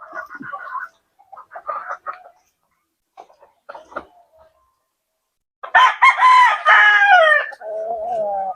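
Fighting-breed chickens cluck in short scattered bursts in a backyard breeder's yard, then a rooster lets out a loud, close crow, followed by more low clucking.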